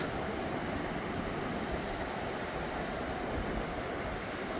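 A small waterfall on a creek in a state park canyon gives off a soft, continuous rushing and splashing of water at low to moderate level, steady throughout with no voices.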